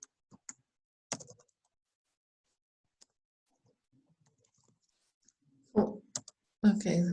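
Scattered bursts of clicking on a computer keyboard, faint and close, with long quiet gaps between them and brief speech near the end.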